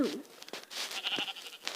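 Sheep in the video game Minecraft bleat faintly a few times amid soft background game sounds, short wavering cries heard alone without talk.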